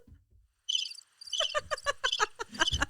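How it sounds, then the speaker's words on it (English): Steady cricket chirping, a rapid repeating trill of short pulses that starts after a brief quiet moment and continues clearly to the end. "Hit the crickets."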